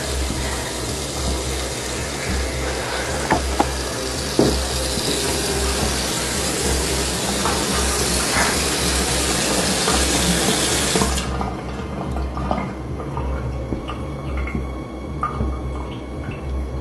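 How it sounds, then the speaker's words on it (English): A kitchen water tap runs continuously with a loud, steady hiss of flowing water into a sink over a low background hum; the flow changes character and softens near the end. "The water just came on."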